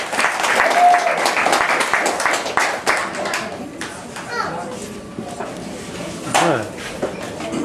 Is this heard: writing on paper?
no